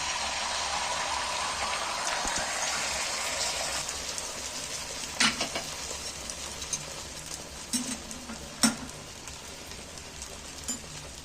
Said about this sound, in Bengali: তেল দিয়ে দিচ্ছি গরম হয়ে গেছে এবার আমি তাওয়ার মধ্যে ডিমটা ঢেলে দিচ্ছি